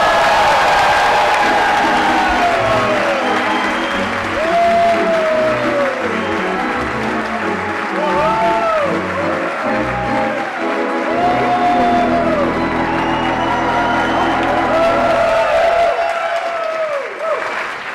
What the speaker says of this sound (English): Please give a warm Chicago welcome to Olivia Wilde